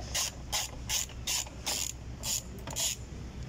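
A ratchet wrench snugs down the battery clamp on a Hyundai Elantra, giving off about eight sharp clicking bursts in an uneven rhythm, close and clear with no talking.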